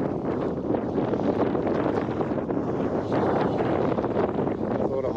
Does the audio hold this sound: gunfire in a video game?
no